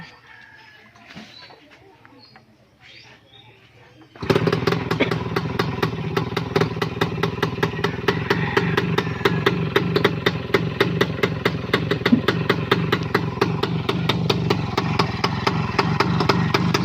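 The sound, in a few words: Kawasaki HD3 two-stroke motorcycle engine running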